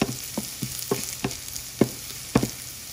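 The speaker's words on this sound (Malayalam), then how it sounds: "ചെറിയുള്ളി മുളകൊക്കെ ഒന്ന് മുരിഞ്ഞ് വന്നിട്ടുണ്ട്." Shallots and chilies fry in a pan for a South Indian beetroot kichadi, giving a soft continuous sizzle broken by sharp stirring clicks at irregular intervals.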